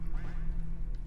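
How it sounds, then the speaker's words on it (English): A single short duck quack from the Roblox scary obby game sits faintly above a steady low electronic hum. "I hear a duck"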